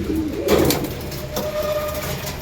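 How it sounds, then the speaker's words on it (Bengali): Male beater pigeons cooing in a flying loft, a couple of deep throaty coos close by, followed by quieter background hum and a brief tonal whine. "এই যে আমার সব বিটার নর পায়রাগুলো একটু দেখায়"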